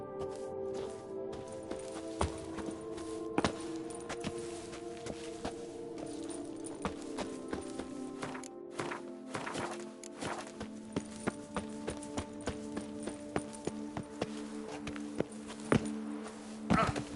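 Horse hooves clip-clopping in The Witcher 3: Wild Hunt, a steady run of sharp knocks over a bed of game music and ambience, with a voice briefly heard.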